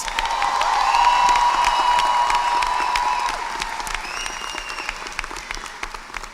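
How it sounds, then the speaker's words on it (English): A graduation audience at a college commencement ceremony gives a rousing round of applause, with cheers and whoops over the clapping, swelling early and then thinning into scattered claps. "give the college faculty, the staff, and administration a rousing round of applause"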